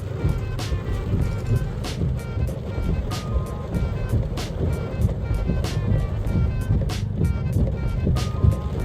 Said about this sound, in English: All right, so now just let it reverse.